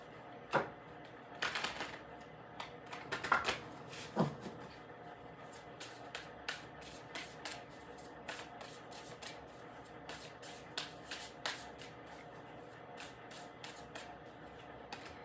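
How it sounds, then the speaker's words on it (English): Spellcasting oracle cards being shuffled by hand, a soft papery riffle of quick flicks and slides repeating close and steady, with no voice over it. "So, let's look at your spellcasting oracle cards."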